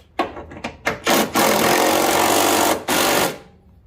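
A power tool removes the last bolt on a Honda 2.4L engine mount: a few short rattling bursts, then one long loud grinding, hammering run that stops briefly and resumes before fading.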